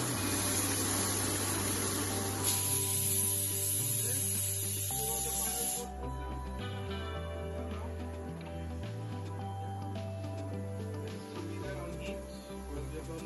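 Ginger garlic masala sizzles and hisses in a pan for mutton ghee roast, a steady frying spray that runs loud at first and then settles lower beneath a background hum.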